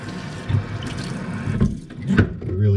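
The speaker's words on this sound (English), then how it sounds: "I don't really think it needs anything, but I'll water it." Water splashes steadily from a can or jug onto grass growing in a tray of coconut coir outdoors on a hot day, a close, continuous pour with small surges and gurgles.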